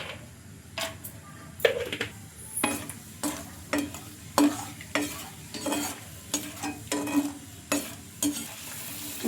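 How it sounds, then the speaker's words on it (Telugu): Peanuts frying in oil: a continuous sizzle sits under a quick, regular series of metallic stirring clicks and scrapes of the spoon against the pan. "ఇప్పుడు ఇదే ఆయిల్లో కాస్త పల్లీలు కూడా ఫ్రై చేసుకుందాం"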